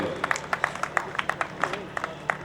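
A few people at a prize ceremony clap for a junior-category winner coming on stage, a sparse, uneven scatter of distinct claps over quiet room noise.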